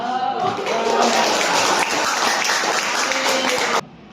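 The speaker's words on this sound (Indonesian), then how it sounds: "tepuk tangan buat kalian" Schoolchildren in a classroom clap together after roll call, a dense burst of applause lasting a few seconds before stopping abruptly, with a voice faintly mixed in.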